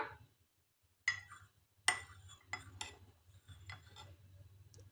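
A spoon stirring vanilla custard powder into a bowl of reserved milk, giving sparse scrapes and light clinks against the bowl, faint and close, with quiet gaps between strokes.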